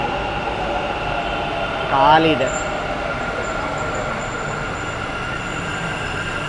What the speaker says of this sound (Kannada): ಫೈನಲಿ ನಮ್ಮ ಮೆಟ್ರೋ ಟ್ರೈನ್ ಬಂತು